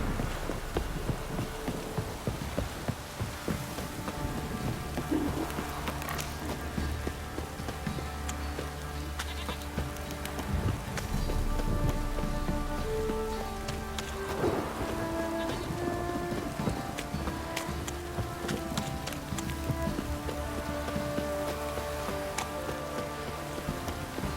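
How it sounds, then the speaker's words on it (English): Heavy downpour in The Witcher 3, a continuous hiss of rain on surfaces running the whole time, layered under sustained game music and occasional distant knocks. "This downpour's a bastard"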